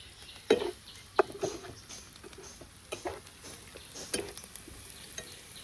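Garlic and onion fry in a pan until browned. A quiet, steady sizzle runs throughout, broken by occasional stirring scrapes and light taps, heard close and fairly faint.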